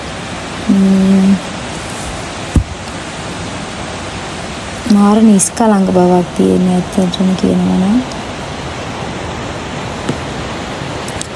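Puna Ella waterfall in Sri Lanka, running high with extra water, gives a steady, even broadband rush that fills the whole scene, while someone talks over it for several stretches.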